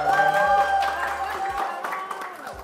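Audience applause rises at once, dense clapping that fades gradually over a couple of seconds, with voices mixed in over a low hum.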